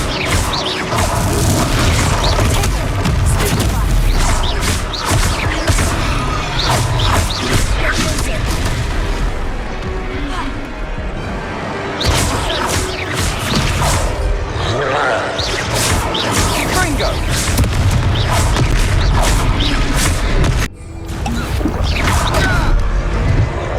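Repeated booming Confringo spell blasts from Hogwarts Legacy, dense and continuous with crashing, mechanical clatter during a battle, while voices speak over the din.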